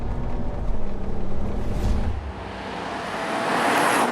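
Tuned 370 bhp BMW 335d diesel engine revving hard around 5,000 rpm, a loud continuous roar that eases back then swells again with rushing wind noise.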